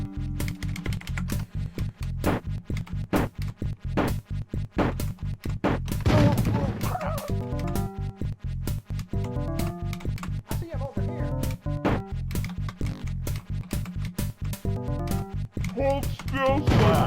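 Repeated bursts of gunfire in a shareware first-person shooter, sharp rapid shots in a steady stream under game music and sound effects, with a voice talking over the action.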